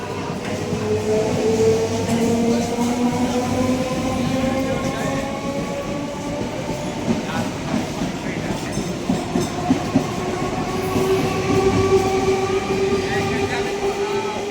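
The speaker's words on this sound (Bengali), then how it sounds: "সেই ট্রেন এখন বেলডাঙ্গা স্টেশন ছেড়ে চলে যাচ্ছে" A Lalgola-bound train pulls away from Beldanga station with a steady rumble and rising motor whine, wheels clacking as it gathers speed; faint voices in the background.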